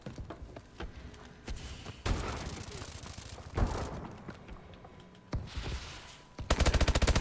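Gunfire in Call of Duty: Advanced Warfare multiplayer, bursts of rapid automatic shots and single cracks separated by brief pauses, ending in a loud fast burst, with a player's voice talking over parts of it.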